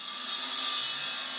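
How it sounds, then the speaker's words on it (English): A track saw rips through wooden ceiling panels with a steady, loud, hissing whine that holds constant throughout the short cut. "Saw track clamped to the panels."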